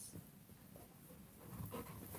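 Two dogs pant softly and steadily at close range, a low breathy rasp running continuously with slight swells in loudness and no voices over it.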